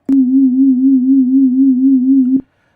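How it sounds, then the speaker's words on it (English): A steady low sine tone hums for about two seconds, its pitch gently wobbling in a slow regular vibrato from LFO modulation before cutting off abruptly. "the moment we add some, say, LFO modulation to that sine wave"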